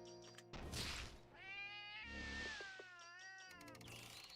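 A cat meows in several drawn-out, wavering calls, close and clear, with a brief rustle between them and no talk over it.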